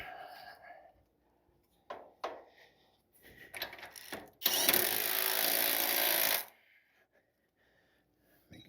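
A few faint clicks and handling noises, then a loud power drill whirs steadily for about two seconds before stopping, during a 1956 Chevy truck suspension install.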